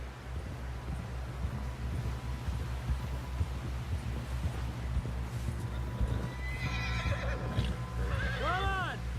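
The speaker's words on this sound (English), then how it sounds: "Someone help John down off this horse." Hooves clip-clop steadily over a low rumbling hum in Red Dead Redemption 2, then a horse neighs loudly near the end, its whinny rising and falling.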